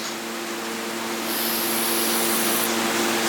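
Carb cleaner sprayed into a Honda TRX 70 carburetor, a continuous loud hissing spray that grows stronger midway and carries on, close up, with no talking.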